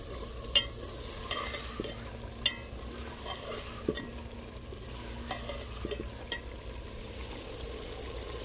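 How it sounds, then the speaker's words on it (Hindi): Curry masala stir-fries in a pot, with soft sizzling under repeated sharp scrapes and clinks of a spoon against the pot at irregular intervals, fairly quiet and close. "ये अब काफ़ी भून चुका है।"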